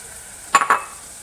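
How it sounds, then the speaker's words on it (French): Coral lentils tipped into a hot pan of oil and spices, giving three quick scraping, sizzling bursts of stirring in close succession, then quiet. "Donc on fait suer ça, on y ajoute les lentilles corail"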